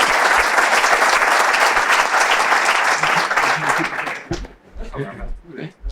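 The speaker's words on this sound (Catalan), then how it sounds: "Un aplaudiment." Loud, dense applause from a crowd fills most of the clip, then tapers off as a voice begins speaking near the end.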